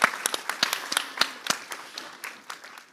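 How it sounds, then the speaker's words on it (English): An audience applauds: a scattered, moderately loud round of individual claps with no speech over it. "can I please get a round of applause for Beatrice?"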